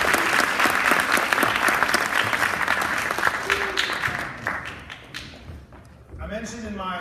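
An audience at a youth pitch competition applauds, dense clapping that fades over several seconds before a voice begins speaking at the end.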